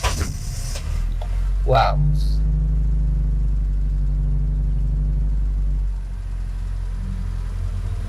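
An automatic Honda City Type Z starts with a short crank and catch, then settles into a steady, close low idle hum and rumble that quiets slightly near the end, with a brief spoken exclamation near the start.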